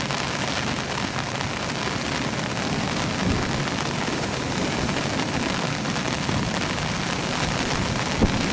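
Heavy rain pounds a boat at sea during a thunderstorm, giving a dense, constant hiss of downpour with low rumbling beneath it, loud and unbroken, with no speech.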